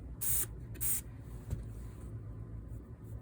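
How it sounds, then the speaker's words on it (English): Best Press spray starch misted onto a fabric dog bandana in two quick hissing bursts, close and fairly loud, over a faint room hum. "I sprayed a little too much."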